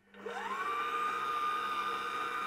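A stand mixer motor spins up from silence with flour in the bowl, its whine rising in pitch within half a second and then holding a steady, even hum.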